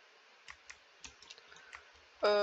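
Keyboard keys clicking at irregular intervals while Minecraft is being played, a run of distinct close, sharp taps over a faint hiss, then a sudden loud harmonic tone cuts in at the end.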